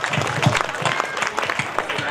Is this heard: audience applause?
yes